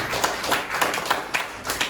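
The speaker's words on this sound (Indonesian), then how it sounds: "beri tepuk tangan dulu sama Nopri" A small group of students clapping in a classroom for a classmate, loose overlapping claps with a few sharper accents, fairly close and on its own for about two seconds.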